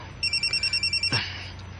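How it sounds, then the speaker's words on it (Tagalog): Incoming call on a telephone, ringing as a rapid, evenly pulsed electronic trill for about a second, then stopping abruptly with a brief click, with no talking. "Si Kuya Hans pang nanawag."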